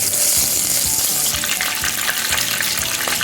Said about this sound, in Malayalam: ഓയിലൊക്കെ നന്നായി ചൂടായി വന്നിട്ടുണ്ടെങ്കിൽ നമുക്കിതിലേക്ക് കുറച്ച് കറിവേപ്പില ഇട്ട് കൊടുക്കാം